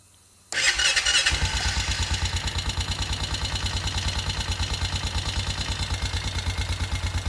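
A neglected four-wheeler ATV with around 1,388 hours and 9,400 miles: a brief starter crank catches into a loud, close engine that then runs steadily at a fast, pulsing idle.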